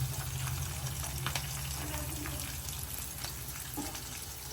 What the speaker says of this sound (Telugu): చూడండి ఫ్రై అవుతుంది ఇంకా స్లోగా